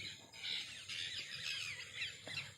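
A flock of parrots flying over dense jungle gives repeated harsh, overlapping squawks at moderate distance, with no voices.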